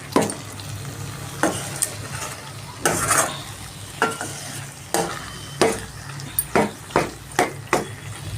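Egg and amaranth leaves fry on a low flame while a spatula stirs and scrapes the pan, giving a steady soft sizzle broken by a dozen or so sharp, irregular scraping strokes, close and clear, with no talking.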